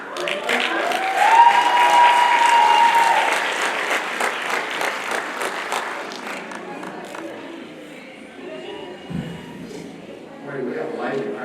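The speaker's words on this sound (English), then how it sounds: "We have a lively crowd here today." A lively crowd at an awards night claps and cheers loudly at first, then the applause thins and fades while talk carries on over the dwindling clapping.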